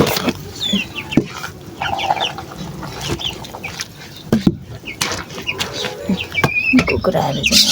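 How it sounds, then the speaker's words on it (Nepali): Chickens clucking nearby in a rural yard, scattered short clucks and calls over a busy background with occasional knocks, a voice speaking briefly among them. "कुखुराहरू"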